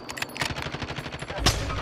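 Rapid automatic gunfire in Call of Duty Warzone: a fast, loud burst of shots in quick succession, with one heavier blast near the end.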